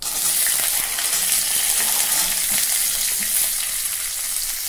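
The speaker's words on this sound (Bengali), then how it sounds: "সবজিগুলোকে ভেজে নেব।" Beans, cauliflower, carrot and peas frying with whole cumin, giving a loud, dense, continuous sizzle with faint stirring scrapes underneath.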